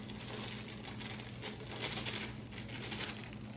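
Dry cake mix is poured from an opened bag into a bowl for an earthquake cake. It makes a faint, continuous rustle and crinkle of the bag with a soft granular hiss, heard close and alone.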